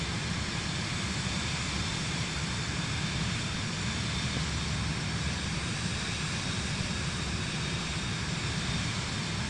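Steady loud drone of an airplane in Microsoft Flight Simulator 2024 on PS5, flying over California toward San Francisco, a continuous broadband engine and wind roar with no breaks and no speech.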